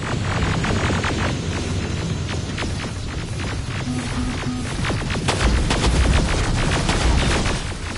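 Dense, continuous gunfire from the shooter game Terminator: Resistance, rapid overlapping shots and bursts crackling loudly throughout, with no speech over them.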